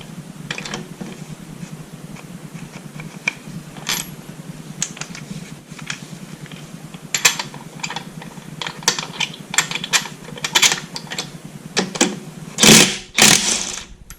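A DeWalt 20V impact wrench, model DCF899D, works on wheel lug nuts, with light ticking clicks building to loud, harsh rattling bursts of hammering near the end.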